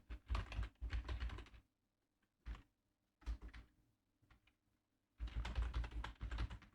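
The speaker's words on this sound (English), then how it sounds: "Then you need to go and type your email here." An email address is typed on a computer keyboard in short clustered bursts of clicks separated by pauses, close and fairly quiet.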